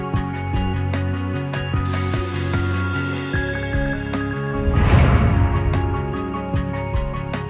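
A KUANI auto shut-off air screwdriver runs with a steady mechanical whir. A brief hiss of air and a few clicks of the clutch and mechanism come through, set against a constant droning background.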